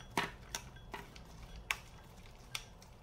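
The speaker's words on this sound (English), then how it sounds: "All you do is chop up some cabbage. I chop mine up super tiny into small pieces." A knife chops cabbage into small pieces on a cutting board, giving sharp, close taps at an uneven, unhurried pace, about six distinct strikes with quiet in between.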